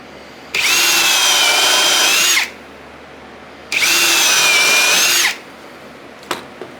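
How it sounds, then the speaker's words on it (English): Two separate bursts of a power drill boring countersunk screw holes into boards for a wooden table saw sled, each high whine lasting about two seconds, close and loud, with a brief tap afterward and no talking. "And these holes will also need to be countersunk a little bit so that the 2 boards will go together without hitting on the screws."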